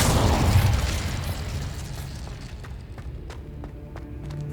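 An Incendio fire spell cast in the Hogwarts Legacy video game bursts out as a loud, booming whoosh that decays over a few seconds into a crackling, fiery tail with scattered small pops.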